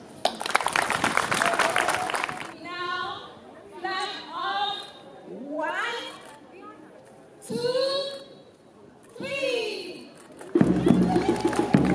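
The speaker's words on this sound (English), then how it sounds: "I would ask that you give her a clap." Audience applause for a cancer carer at the Lady Hope Walk 2024 cancer-care event: a dense burst of clapping, then a stretch of talking voices, then clapping swells again at the end.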